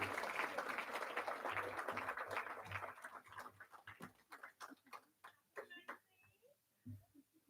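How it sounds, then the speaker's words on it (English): A crowd claps, a dense wash of applause that thins out into scattered individual claps before fading. "Can we give another round of applause?"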